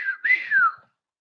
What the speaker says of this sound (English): He let out the whistle.